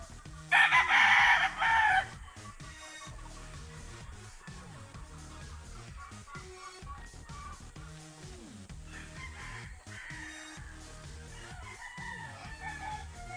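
Sweater-line gamefowl roosters on a game farm crow loudly in a short burst near the start, followed by steady clucking and scattered crowing from several birds through the rest.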